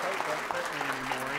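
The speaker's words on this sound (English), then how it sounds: "can we give them a round of applause and just say thank you?" A church congregation applauds veterans after a service, a steady wash of clapping filling the room at moderate level, with voices audible over it.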